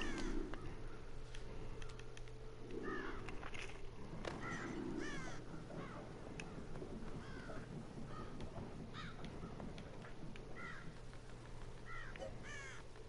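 Crows cawing in a video game: repeated harsh caws at a moderate level, some in quick pairs, spread across the clip over a steady background drone, with no talking.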